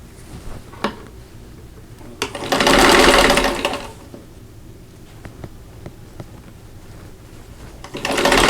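A sewing machine runs in two loud bursts as quilt block pieces are stitched together, one long run near the middle and a second starting at the end, with quiet clicks and handling noises between them.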